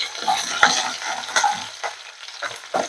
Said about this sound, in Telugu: ఆవాలు జీలకర్ర చిప్పట్లాడగానే ఆనియన్ పచ్చిమిర్చి వేసేసుకోవాలి